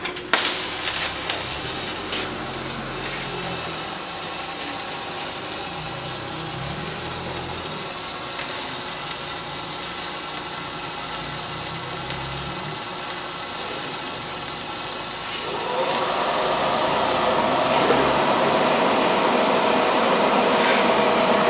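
Gas-shielded wire-feed welding with a 75% argon, 25% CO2 mix runs continuously at close range as a steady, dense crackling hiss, growing somewhat louder and brighter toward the end, with no one speaking.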